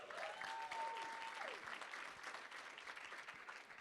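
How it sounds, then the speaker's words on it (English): An audience at a talk claps for a speaker, a steady rattle of applause that runs throughout at moderate distance with a faint background tone. "Give her another round of applause."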